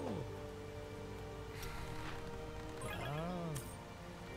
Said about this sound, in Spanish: Sé que llueve,